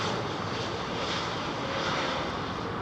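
Airbus A319neo airliner at London Heathrow, a steady broadband jet roar that stays loud and even throughout, with no talk over it.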